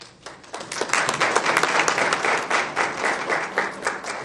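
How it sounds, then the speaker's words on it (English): A luncheon audience at a college student leadership event applauds a panelist, sustained dense clapping swelling quickly and holding steady throughout, close and loud. "please give a round of applause for Mr. Boges."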